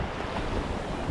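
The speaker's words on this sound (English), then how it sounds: "I was gonna say sluggish waves, sandy beach" Ocean waves on a sandy beach make a dense, steady roar of surf mixed with wind buffeting the microphone. The sound is fairly loud and continuous, with no talking.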